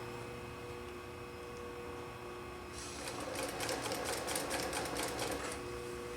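A sewing machine stitching upholstery fabric for an old marine chair starts up after a quiet hum and runs in a steady, rapid chatter for several seconds, close and fairly loud.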